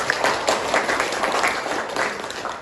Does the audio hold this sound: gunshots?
no